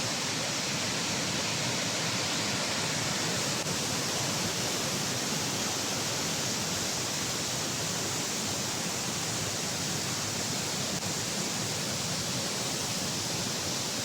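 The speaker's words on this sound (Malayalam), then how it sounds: "ഈ കാണുന്നതാണ് വാട്ടർ കനാൽ" Water pours steadily over the waterfall at the Dubai Water Canal, a dense, unbroken rushing roar that stays constant throughout with no voices.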